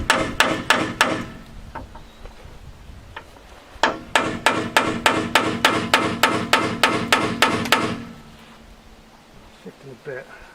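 Metallic hammer blows ring out in quick steady runs, a short burst of four, a pause, then a long rhythmic series of strikes on a steel drift, knocking out rivets on a Zil-131 truck.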